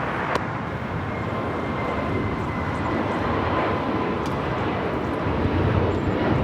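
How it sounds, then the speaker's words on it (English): A Spirit Airlines A320neo takes off from runway 25 right at Los Angeles LAX, its engines a steady, broad roar that holds evenly at a distance without a clear rise or fade, with no talk over it. "This is Spirit Airlines 2759 taking off to Fort Lauderdale on the A320neo."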